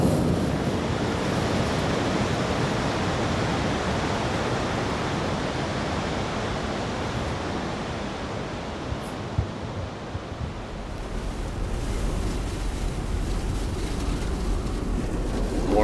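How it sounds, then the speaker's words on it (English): Strong Icelandic wind and pouring rain make a steady, dense roar that stays loud and unbroken throughout, with gusty buffeting and no voices. "34-mile-an-hour winds with 60-mile-an-hour gusts, pouring rain."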